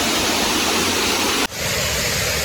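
Nalagana Ella waterfall close by, a loud, dense, continuous roar of falling water that dips briefly for a moment before resuming, with no voices.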